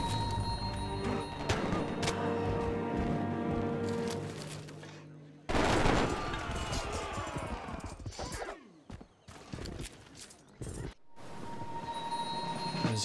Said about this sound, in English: they're bombarding that little Gatling gun